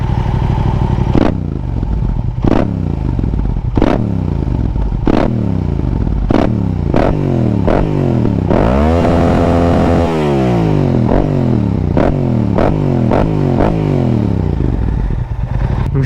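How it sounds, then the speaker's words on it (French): Yamaha R7 motorcycle exhaust revving loudly and repeatedly, sharp blips with falling tails and a longer sustained rev mid-sequence, close and alone with no talk. "le bruit de la ligne, ça s'est vraiment amélioré avec le temps"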